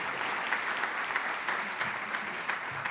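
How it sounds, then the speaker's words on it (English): Conference audience clapping for a speaker at a market outlook session, a continuous even patter of many hands at moderate level, holding steady to the end. "give her a round of applause for her excellent work"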